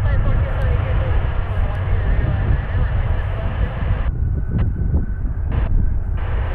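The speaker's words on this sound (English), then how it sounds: "Sounds like they're going to take most of the runway to take off." A CRJ2 regional jet taking off from a snowy runway, a loud, steady broadband engine roar with wind buffeting the microphone, continuous and close throughout.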